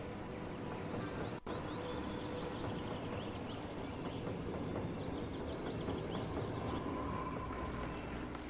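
A faint, steady rumble of a train in the Cities: Skylines city-building game rolls on without a break, quiet and distant, with no one speaking.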